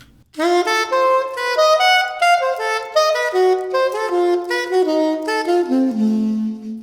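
A quick, steady run of melodic jazz notes outlining two alternating major triads a tritone apart, played alone, with the line stepping gradually downward.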